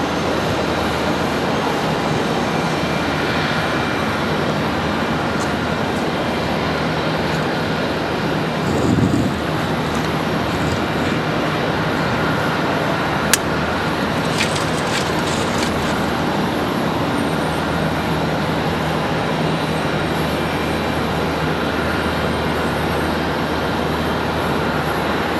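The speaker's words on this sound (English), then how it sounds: "Southwest 4725 coming in from Nashville, Tennessee, arriving number 2." A Southwest airliner arriving at Charlotte Douglas airport from Nashville sends out a steady, broadband jet roar that holds fairly constant over the whole stretch, with only a brief swell and a small click partway through.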